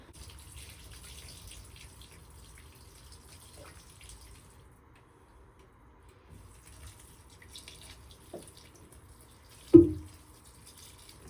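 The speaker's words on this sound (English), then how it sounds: "I just give them a thorough enough water until water starts coming out the bottom." Water trickles and splashes quietly for several seconds as potted plants are watered until it drains out the bottom, fading to near silence before a brief louder splash near the end.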